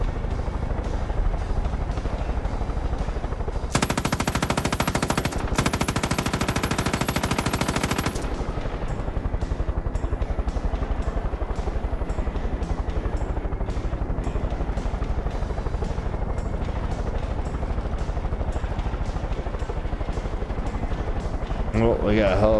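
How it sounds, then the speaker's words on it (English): Helicopter in the video game Star Citizen, a loud continuous rotor roar that fills the scene, with a burst of dense gunfire partway through and a steady engine drone throughout. "Oh, we got a helicopter too."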